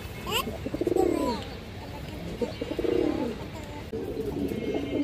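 Several pigeons coo in soft, repeated low calls close by, with a little chirping and some background noise mixed in.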